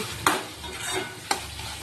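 Vegetable curry stirred in hot oil left from frying eggplant, a steady close sizzle with two sharp scraping strokes of the spoon against the pan.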